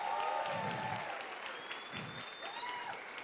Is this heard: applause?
yes